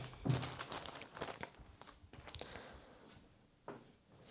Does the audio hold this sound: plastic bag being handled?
yes